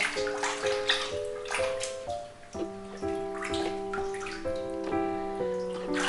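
Water runs steadily into a tub while a cat with cerebellar hypoplasia is bathed, a continuous close splash under a tonal melody playing throughout.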